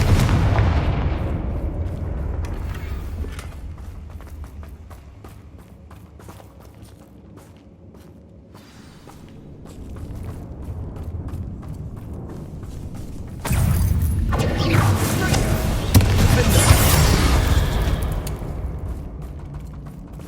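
Confringo explosive spell blasts in the Hogwarts Legacy video game: a series of booming, crackling impacts with rumbling low end, fading into a quieter stretch before a louder, sustained blast and roar in the second half.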